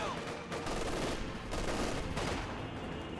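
Sustained gunfire from German Grenadier infantry in the World War II strategy game Company of Heroes 2, a dense, continuous rattle of rifle and machine-gun bursts with no clear gaps, fairly loud and steady throughout.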